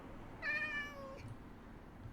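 A cat meows once in a video game, a clear, rising and falling mew over a faint ambient hum, and no one speaks.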